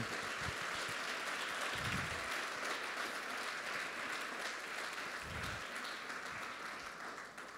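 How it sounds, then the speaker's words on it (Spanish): Church members give a long round of applause to the Lord during a sermon, a continuous, even wash of clapping that stays faint and distant, with a few low thumps underneath, before easing off slightly. "Dele un aplauso al Señor si se lo va a dar."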